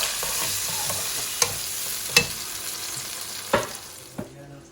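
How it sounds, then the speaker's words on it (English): Chopped tomatoes sizzle over high heat in a pan, a bright continuous hiss broken by a few sharp stirring knocks and scrapes, with no voices. "Just going to add the tomatoes and cook for just literally 5 minutes on high heat."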